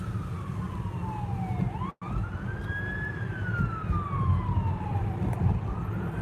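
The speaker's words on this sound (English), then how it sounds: "Here's siren. Probably an ambulance." An ambulance siren wails from behind a moving car, its tone sweeping slowly up and down in long rising and falling cycles over steady road and engine rumble.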